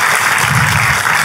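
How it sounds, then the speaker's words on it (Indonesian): Church audience applauding for Jesus during a sermon, a dense, loud continuous patter of clapping with a low crowd rumble beneath, sustained without pause and no voices standing out. "Tepuk tangannya boleh lebih dahsyat lagi buat Yesus Tuhan kita"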